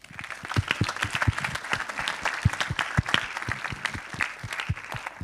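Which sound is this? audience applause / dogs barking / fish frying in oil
audience applause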